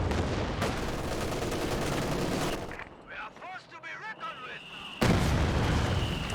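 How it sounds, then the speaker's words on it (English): Time-fuse artillery shells burst in a World War II strategy game: dense, loud explosions and gunfire fill the opening, ease off under a voice in the middle, then return with a sudden heavy blast. "Bit of time fuse action now."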